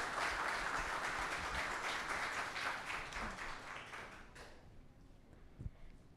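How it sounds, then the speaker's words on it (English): Applause from the audience at a Boys & Girls Clubs of Greater St. Louis annual recognition and awards event, steady and dense at first, then thinning out and fading to near silence, with one last isolated clap. "Can we have a round of applause for them,"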